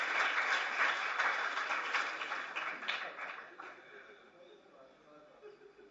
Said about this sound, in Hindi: तालियां इसके लिए प्यारे बच्चों एक बार फिर से होनी चाहिए।